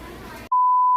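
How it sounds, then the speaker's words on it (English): A fire alarm gives one sustained, loud, pure electronic beep that cuts in abruptly after half a second of quiet background murmur and holds steady to the end. "I hate you, fire alarm."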